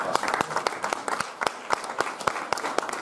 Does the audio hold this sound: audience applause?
yes